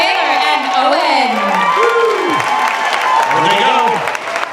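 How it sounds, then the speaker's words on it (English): A lively crowd at a dance competition applauds, cheers and whoops for a pair of dancers, loud and sustained with rising shouted voices over the clapping. "one more round of applause for Taylor and Owen"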